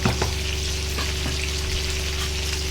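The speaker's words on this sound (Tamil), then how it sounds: "குழம்பு நல்லா கொதிச்சிருச்சு" Radish chicken kurma curry bubbles in a pot close by, a steady simmering hiss with scattered soft pops and bursts.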